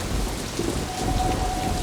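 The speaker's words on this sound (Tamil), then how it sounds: "மழை நிக்காது போல இருக்கே." Heavy rain pours steadily with rumbling thunder underneath, a continuous loud wash of drops on surfaces during a storm, with no voices.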